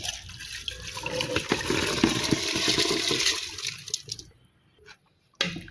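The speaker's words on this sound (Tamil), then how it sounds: "அங்கே அரிசி போடுவோம்" Rice poured into water in a pressure cooker while making sambar rice, a gushing, splashing pour for several seconds that trails off, followed by a brief clunk.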